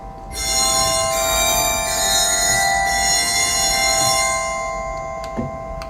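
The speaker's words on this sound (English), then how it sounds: "there's another one that affects the glockenspiel, called orchestra bells" Barton theater pipe organ playing its glockenspiel (orchestra bells) stop: bright, ringing metallic bell tones that sustain and overlap for several seconds, with a small late strike near the end.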